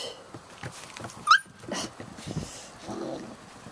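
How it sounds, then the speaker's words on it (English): A puppy lets out a single sharp yelp or whimper after being stepped on, a high rising cry close by amid shuffling, scratching and faint background noise from other puppies. "I just stepped on a puppy."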